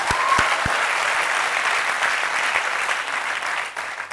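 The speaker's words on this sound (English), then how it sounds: "big round of applause to the women" Sustained applause from a large audience for the women participants of the Jagriti Yatra 2016 journey across India, dense steady clapping with a few sharp claps at the start, tapering slightly at the end.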